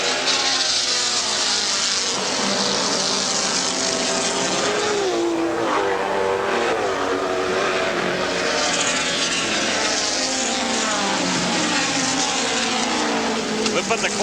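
Race cars lapping slower traffic in a 1982 IMSA Camel GT race at Lime Rock, engines droning steadily and loudly throughout with rising and falling passes under continuous commentary.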